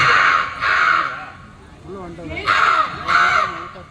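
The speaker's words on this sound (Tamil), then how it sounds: "அந்த காக்கா கத்துறத கேட்டீங்களா?" A crow caws four times, loud and close, with harsh rasping calls in two pairs and a pause between them, while someone talks softly in the gap.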